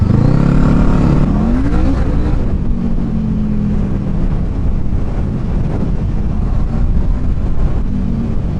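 A Honda CBR500R motorcycle engine revs up and then settles into a steady, throaty exhaust drone, loud and close, with wind rushing across the microphone.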